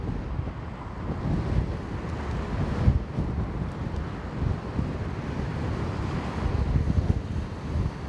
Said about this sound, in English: the wind blowing makes it really cold